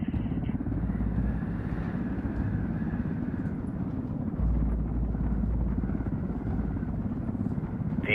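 A helicopter in the video game Ghost Recon Wildlands flies steadily overhead, with a loud, continuous rotor thrum and engine drone that holds for the whole stretch without talk.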